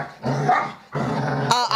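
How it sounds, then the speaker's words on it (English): Several dogs growl and bark nearby in two sustained rumbling bursts, with a sharper yelp or yip at the end, loud and close with no voices over them. "Sounds like the dogs are on one."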